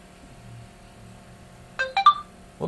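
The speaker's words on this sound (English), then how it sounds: "Whoops, phone went off." A phone goes off during a skull-drawing session, a short burst of bright electronic ringtone tones, three or four quick chirps close by, then cut off against a quiet room.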